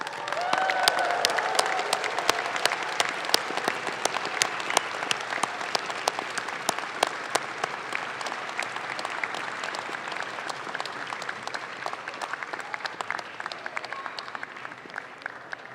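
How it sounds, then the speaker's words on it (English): Graduates at a Class of 2022 engineering doctoral commencement applaud and cheer their supporters, with long, dense, continuous clapping from a large hall crowd and a few cheers rising early on, sustained for over fifteen seconds. "Please stand up and give them an enthusiastic cheer."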